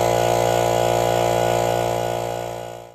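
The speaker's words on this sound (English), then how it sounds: "So now we'll turn our air compressor on," An air compressor charging a well water pressure tank runs loud and close with a steady mechanical drone and hum, then winds down and fades toward the end.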